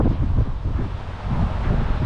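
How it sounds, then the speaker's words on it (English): Gusty wind buffets the microphone outdoors just off a busy road, a loud, steady low rumble with rising and falling surges and no voices over it. "it's quite windy, so you might struggle to hear us"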